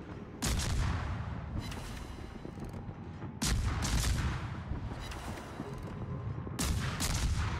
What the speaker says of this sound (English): Apparently, I guess nobody else is shooting at him but me.